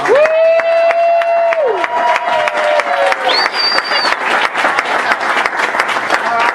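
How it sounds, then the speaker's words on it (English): Applause from a crowd, steady and fairly loud throughout, with a few tonal electronic sounds layered over the clapping early on. "applause as we welcome Miss Patty"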